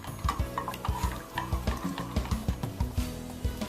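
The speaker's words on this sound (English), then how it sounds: "Okay, now we'll just give this a stir." A chocolate gelatin mixture stirred in a pot on the stove over low heat, giving a steady rhythmic scraping and clinking of the utensil against the pot, close and fairly quiet.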